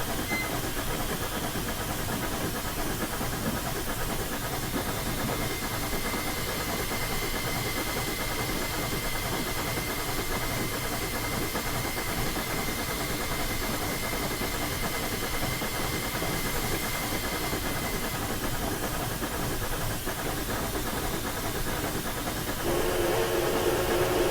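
Steam locomotive in Train Simulator 2016 on a snowy Clear Creek run from Silver Plume to Golden, giving a steady, loud broadband hiss of steam under continuous engine rumble throughout, with no talk.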